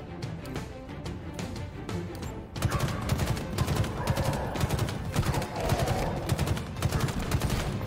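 Gunfire in a Halo Infinite firefight: close, dense, rapid shots, at first spaced and lighter, then a sustained barrage of loud, evenly spaced blasts for several seconds.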